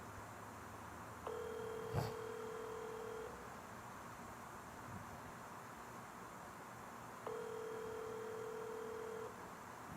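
Telephone tones while placing a call: two steady electronic tones of about two seconds each, separated by a long pause, over faint background hiss with a sharp click between them.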